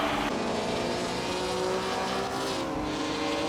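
A 1957 Maserati 250F Formula One racing car with a 2.5-litre engine revving to 9,300 RPM, making a loud, continuous high-pitched scream that holds steady throughout at close range.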